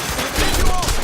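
Rapid burst of gunfire in the video game Quantum Break, a loud dense crackle of shots with low booms and a faint tonal whine, close and continuous over about a second.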